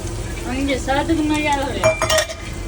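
Two large sliced onions going into about three tablespoons of hot oil in a heated pan, a short burst of sizzling mixed with metallic clinks and scraping of a spoon, with a voice speaking over it.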